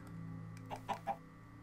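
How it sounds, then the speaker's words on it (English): A Minecraft chicken in the video game gives three short soft clucks in quick succession, fairly faint over a low steady background hum, with no talk. "There's a random chicken."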